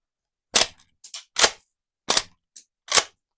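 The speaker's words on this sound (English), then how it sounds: "Smooth lever action." A Ruger-made Marlin 1894 Trapper .357 lever-action rifle loaded with dummy rounds is cycled, giving a run of sharp, close metallic clacks in quick pairs with silence between them and no voices.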